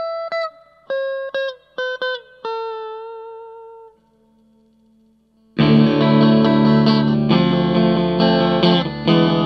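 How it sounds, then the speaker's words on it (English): Electric guitar plays through an 8-inch Marshall combo amp, first as a few clean, ringing plucked notes that decay, then after a short pause as a loud, dense fuzz-distorted strummed passage from a Sun Face clone pedal. "Now here's a clean tone."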